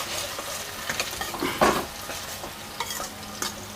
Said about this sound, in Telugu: ఉల్లిపాయ కొద్దిగా ఫ్రై అయితే అయిపోయింది